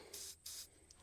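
Silicone spray hisses from an aerosol can in two short bursts with a tiny puff after, applied to small rubber grommets during a Ford F350 power steering line job, close and fairly quiet.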